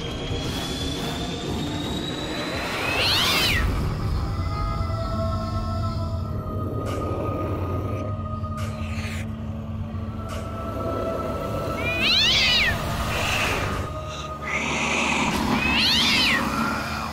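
Cats meow and caterwaul as a dramatic sound effect in a Hindi TV serial, with several drawn-out, wailing cries rising over a steady rumbling, train-like background drone.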